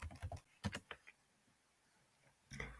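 Short bursts of typing on a computer keyboard, faint close key clicks in two small clusters separated by a quiet pause.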